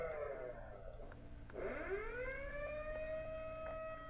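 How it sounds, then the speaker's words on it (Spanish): An alarm siren sounds in a factory assembly-line simulation, a steady, moderately loud electronic wail that sweeps upward and then holds a sustained tone over a faint background hum. "la alarma está activa"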